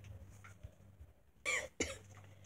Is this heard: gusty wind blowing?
no